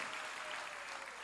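A church congregation applauds together, a dense, steady wash of clapping that fills the moment without a break.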